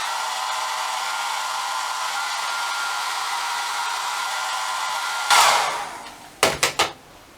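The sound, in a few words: hair dryer blowing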